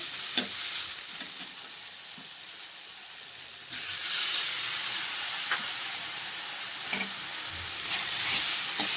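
Tomatoes frying with wilted mint in a pan, a broad hissing sizzle that swells partway through, with occasional stirring knocks, close and continuous without speech.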